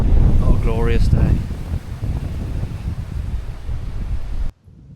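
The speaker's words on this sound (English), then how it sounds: "The wind is absolutely blowing a hoolie." Strong wind buffeting the microphone at a carp fishing lake, a loud continuous roaring rumble that runs for nearly the whole clip before cutting off, with a brief voice-like tonal sound near the start.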